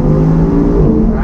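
Audi R8 sports car accelerating, a loud, close engine roar with a rising, revving tone, heard from inside the car during a brief burst of acceleration, with a voice speaking over it.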